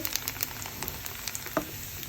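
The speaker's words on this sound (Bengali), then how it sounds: "আমি চালগুলোকে মুড়ির মতো ভেজে নিয়ে তেলে সুন্দর মুড়ির মতো তেলে ভাজা হয়ে যাচ্ছে" Rice grains fry in oil until they puff up, giving a close, continuous crackling sizzle dotted with sharp pops, no voices.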